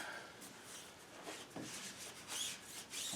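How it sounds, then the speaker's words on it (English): Cloth rubbing steadily along a vehicle axle during reassembly after repair, a soft, close, continuous wiping swish with slight variations in pressure, faint and alone without speech. "wipe down our axle a little bit"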